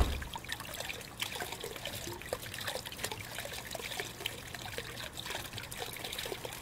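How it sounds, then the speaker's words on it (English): A busted faucet in The Crooked Man game runs water in a steady, hissing trickle, close and continuous with a faint low hum beneath it. "Yikes, the water. Is the faucet busted?"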